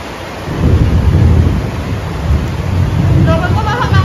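Heavy rain roars steadily with a deep rumbling undertone, loud and continuous throughout with no voices.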